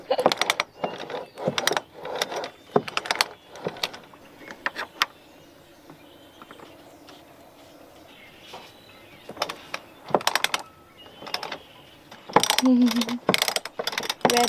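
A sailboat winch ratchets in quick bursts of sharp clicking, pausing between turns, then cranks again close up.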